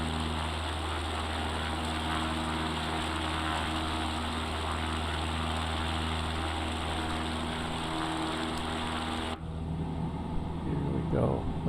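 Steady propeller drone of a small airplane in flight on a 1956 cross-country trip, heard from inside the cabin as a constant loud hum that shifts abruptly near the end, with a pilot speaking over it.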